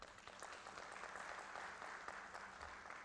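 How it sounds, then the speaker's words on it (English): Brief, faint applause from a conference audience at a felicitation ceremony, a short patter of clapping heard from a distance. "Round of applause, please."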